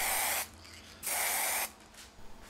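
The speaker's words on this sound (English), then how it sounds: "I've still got a can of white spray paint." White spray paint hisses from an aerosol can in two firm bursts of about half a second each, close and crisp with quiet gaps between, and a faint rattle toward the end.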